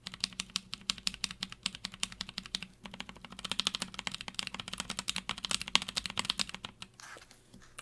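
Typing on a keyboard fitted with NovelKeys Blueberry tactile switches: dense, rapid clacking keystrokes in quick bursts, close and crisp, with a brief pause midway and quieter strokes at the end, no talking.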